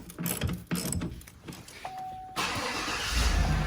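A 2015 Chevrolet Suburban starts up right after a battery replacement. A short electronic chime sounds, then the engine cranks and quickly catches into a steady, loud idle rumble.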